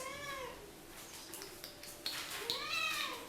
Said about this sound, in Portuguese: o meu gato já está aqui miando no meu pé